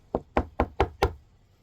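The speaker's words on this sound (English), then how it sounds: "there was loud knocking on the door" Five loud, sharp knocks on a door come in an even, quick rhythm, each blow booming and close, followed by silence.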